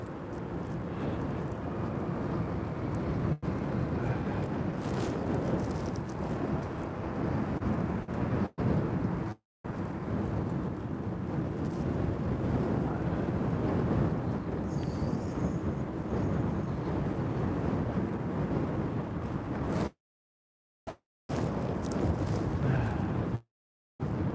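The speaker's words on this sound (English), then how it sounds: "that wind is killing me right now. I hope you guys can't hear that wind" Wind buffeting the microphone while riding an e-bike mountain bike through the streets, a continuous loud low rumble and roar with a few abrupt dropouts near the end.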